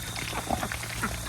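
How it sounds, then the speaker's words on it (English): Ducks in a backyard flock of ducks and chickens give short, faint quacks over a steady background hum. "6 ducks, and the rest are chickens"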